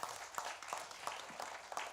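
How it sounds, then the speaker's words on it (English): Scattered hand clapping from a small audience at a police community engagement forum, a few distinct claps over a couple of seconds, fairly quiet and thin, with no talk. "can we also give a round of applause for the caterer and all of us who are in here?"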